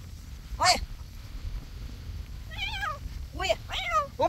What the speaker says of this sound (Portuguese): Tem um gato aqui agora.